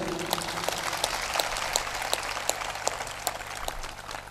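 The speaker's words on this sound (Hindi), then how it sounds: "जोर से ताली बजाओ।" Audience applause at a Hindu satsang in Raipur, a steady wash of many hands clapping together with a few sharper, louder claps standing out at intervals, sustained at moderate level throughout without talk.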